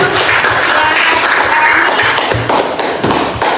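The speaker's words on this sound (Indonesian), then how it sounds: "Tepuk tangan untuk" Students in a classroom clap together in a dense, loud burst of applause, close and continuous with a few hard taps and thumps mixed in.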